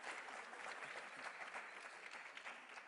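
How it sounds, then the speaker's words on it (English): Audience at a transport and logistics panel discussion applauds, a continuous wash of many hands clapping, fairly distant and faint, sustained evenly throughout. "No, like a real round of applause."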